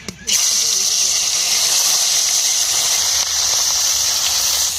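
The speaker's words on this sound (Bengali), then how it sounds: "মাছগুলো একে একে করে ভেজে নেবো।" Fish seasoned with salt and turmeric fry in hot oil in a wok, giving a loud, steady, hissing sizzle that runs continuously after a brief start, with no voices over it.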